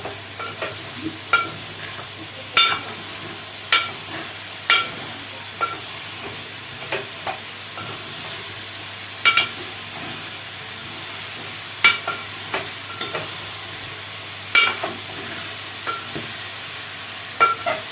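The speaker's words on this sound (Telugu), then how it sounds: "మంచిగా కలుపుకోవాలి సిమ్లో పెట్టాలి" A spoon stirs ridge gourd and moong dal curry in a pan over a steady, close sizzle and hiss. Irregular scraping clicks sound against the pan throughout, with no talking.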